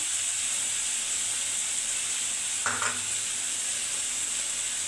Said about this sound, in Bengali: এইভাবে আমি মশলাটা কষে দিচ্ছি